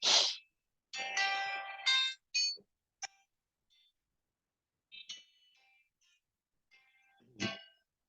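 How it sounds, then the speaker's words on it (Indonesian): A phone ringtone plays a melodic sequence of bright electronic tones in short bursts with silent gaps between them, heard alone and fairly quiet. "ada telepon"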